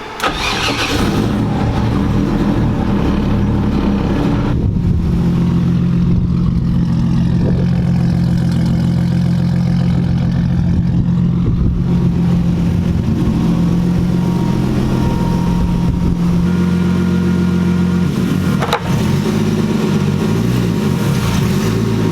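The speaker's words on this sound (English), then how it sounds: "So we're gonna start this 240 up, get it backed out a little bit" A Nissan 240 car engine cranks and starts, then settles into a steady, loud idle close by as the car is backed out, with a brief sharp noise near the end.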